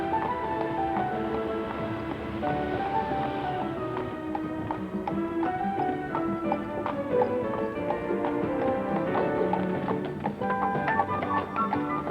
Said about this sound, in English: One rewarding way to see Seville is by horse-drawn carriage